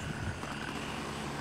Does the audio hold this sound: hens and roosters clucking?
no